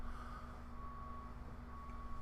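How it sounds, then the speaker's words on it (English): Reversing beeps from vehicles working outside a house, a steady pair of tones held under a constant low rumble of machinery, faint and distant throughout. "you hear the beeping in the sound? Background, they've been going 24/7 here"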